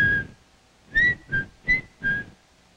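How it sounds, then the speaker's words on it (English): Someone whistles a short tune near a Tektronix 533 oscilloscope, one clear tone followed by four quick, evenly spaced notes that bend slightly in pitch. "This is the sound pattern made by a whistle."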